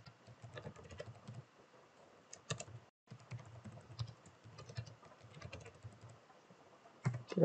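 Rapid clicking of a computer keyboard as a PHP Artisan command is typed, steady close-up keystrokes with a brief pause midway and a few heavier taps near the end, no voices.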